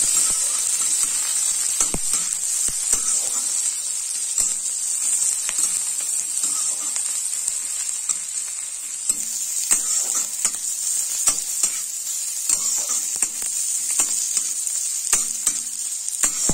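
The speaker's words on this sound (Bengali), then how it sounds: "পেঁয়াজ কুচি দিয়ে দিচ্ছি" Chopped onion frying in hot oil in a wok with five-spice seeds, a loud continuous sizzle and hiss with occasional stirring scrapes, no voices.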